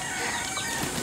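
Chickens on a farm, a brief burst of clucking and squawking with flapping, close and loud.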